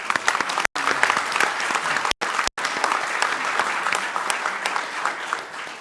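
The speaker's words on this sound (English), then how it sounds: "So let's give our coaches a round of applause." Sustained applause from an audience at a school board of education meeting, a dense steady patter of many hands clapping continuously, with a few brief gaps.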